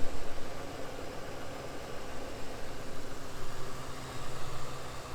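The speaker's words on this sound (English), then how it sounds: "that is one sweet running truck" A service truck engine idles steadily with a smooth, continuous rumble and a faint rhythmic pulse.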